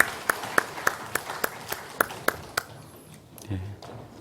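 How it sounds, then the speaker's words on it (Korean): A church congregation at Sunday worship claps in slow, evenly spaced single beats, about eight crisp claps, before fading into quiet room noise with a brief low thump near the end. "우리 하나님께 영광의 박수 올려드리겠습니다."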